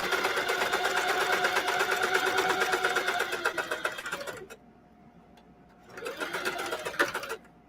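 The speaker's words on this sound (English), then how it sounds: "I'm going to back stitch." A sewing machine back-stitching along a corner of denim jeans during machine embroidery, a steady loud rapid whir that stops for about a second and a half, then starts up again for a second burst.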